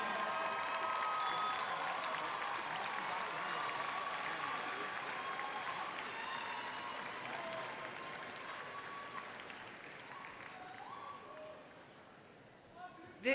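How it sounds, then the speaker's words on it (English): A crowd at a university commencement ceremony applauds, a steady, fairly distant wash of clapping sustained for several seconds before tapering off. "give them a huge round of applause"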